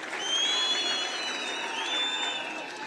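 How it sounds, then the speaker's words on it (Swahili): An audience claps and cheers at a public gathering in a steady, dense wash of applause lasting a few seconds, with whistles rising above it. "mpigeni makofi"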